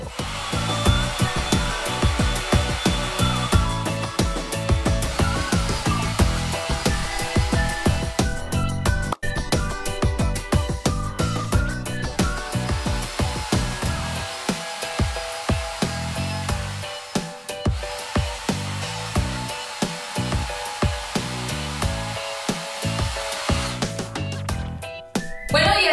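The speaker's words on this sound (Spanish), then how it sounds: "aquí vamos a poner el secador en modo frío" A hair dryer on its cool setting blows through a kitchen colander used as a curl diffuser, giving a loud, continuous whirring rush with a whistling whine that wavers as the air hits the mesh.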